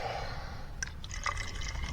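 Water is poured into a small Trangia camping pot, a faint trickle and a few light drips over a steady background hiss, quiet and close.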